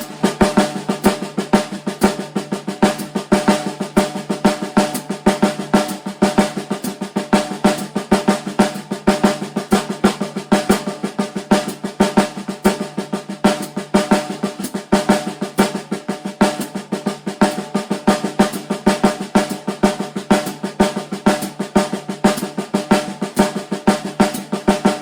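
Dense, rapid snare drumming of accented eighth-note triplets runs throughout, loud and close, forming continuous rolls with a steady pulse.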